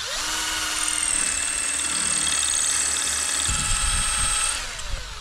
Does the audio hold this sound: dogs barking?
no